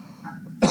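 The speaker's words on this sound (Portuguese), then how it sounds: "Eu tô saindo da gripe, eu tô tossindo bastante." A person recovering from the flu coughs once, a short harsh burst near the end following a faint throaty rumble, close-up and without speech.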